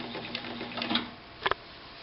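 Morse DeLuxe zigzag sewing machine running at slow speed, a quiet, soft mechanical whirr with light rhythmic ticking and a couple of sharper clicks near the end.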